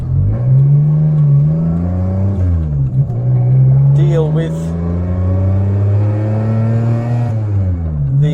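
A 1985 Suzuki Mighty Boy small car accelerating through the gears, engine pitch climbing and dropping with each shift, steady and close with someone talking over it.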